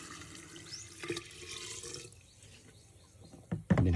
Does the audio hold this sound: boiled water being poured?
yes